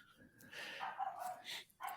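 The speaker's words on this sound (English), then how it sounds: "Stupid dog." A dog barks a few sharp times in quick bursts at moderate loudness, with short gaps between the yaps and a final bark near the end.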